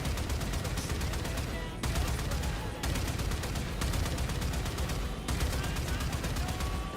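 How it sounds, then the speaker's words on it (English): Rapid automatic gunfire from the player's weapon in Warframe, a continuous fast rattle of shots in long sustained bursts with brief pauses between them, loud and close. "I'm shooting at it."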